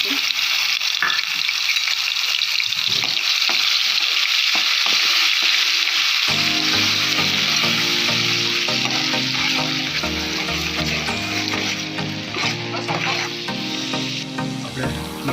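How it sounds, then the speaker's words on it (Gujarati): Onion gravy is added to a pan with cumin for a paneer masala, turning a quiet, faint frying sound into a loud, bubbling sizzle with stirring clatter that continues to the end. "આપણે હવે જે ડુંગળીની ગ્રેવી કરીને રાખી હતી એડ કરી દઈશું"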